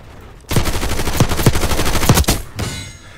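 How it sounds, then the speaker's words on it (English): Sustained automatic gunfire in Call of Duty Black Ops 6, a loud continuous rattle of rapid shots for about two seconds, close up, then cutting off into quieter game noise. "How many times you gotta shoot a man?"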